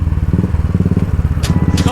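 A KTM Duke 390 motorcycle engine pulses steadily and loudly while riding on a road, with wind noise and brief bursts of other traffic.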